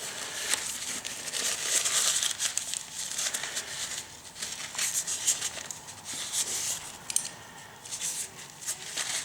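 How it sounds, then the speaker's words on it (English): Paper rubs and scrapes around a BSR UA70 turntable platter on an HMV Stereomaster radiogram, wiping away old grease; a continuous crinkly, scratchy rustle close to the microphone, with no talking. "So I'm just going to run around this with the paper, get rid of this old grease."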